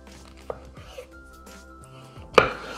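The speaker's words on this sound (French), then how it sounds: "Donc, on va les couper quand même assez épais," Kitchen knife slicing button mushrooms thickly on a cutting board, a few spaced soft chops ending in a sharper louder thud, close up, with someone talking quietly between cuts.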